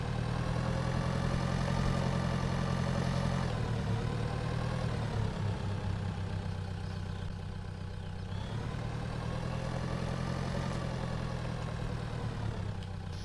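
A tractor engine in a farming video game idles steadily and loudly with a low rumble, shifting in tone slightly every few seconds, with no voices over it.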